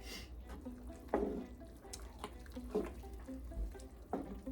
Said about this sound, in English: Don't stir too fast. Don't want it sloshing on you.